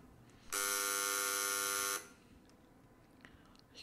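A buzzing alarm clock in the video game Virginia sounds one loud, steady electronic buzz lasting about a second and a half, then cuts off abruptly, leaving quiet room tone.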